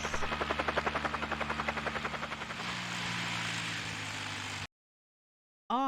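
A helicopter in Resident Evil 1 with a steady rhythmic rotor thump that fades into a continuous engine drone, then cuts to silence before a brief sound at the end.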